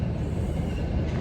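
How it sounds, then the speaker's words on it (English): Low rumbling roar of a train going by early in the morning, dense and steady with no break, heard from nearby outdoors while a dog is walked. "Oh, here comes a train."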